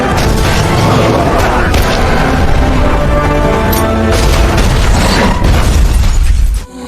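A dramatic vehicle crash and rollover in an action film: loud continuous booming, crunching metal and shattering impacts tumbling together for several seconds before cutting off abruptly.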